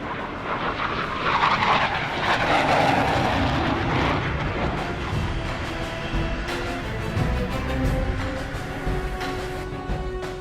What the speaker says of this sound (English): these F-18 pilots can't rest until they bring their aircraft safely to a stop